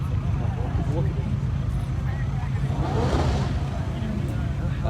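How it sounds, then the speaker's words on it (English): An Audi R8 engine rumbles and briefly swells at a car meet, heard at a middle distance beneath constant crowd chatter and people talking nearby. "That sounds like the R8 again."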